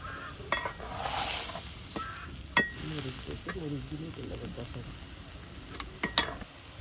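River prawns and ridge gourd frying in a pan in a village kitchen, a soft continuous sizzle broken by spatula scrapes and clinks against the pan, with a voice speaking faintly underneath.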